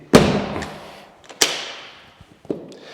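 A door in a villa's living room swinging shut with a sharp thud, followed by a second heavier slam a little over a second later and a softer knock after that, each ringing briefly in the room.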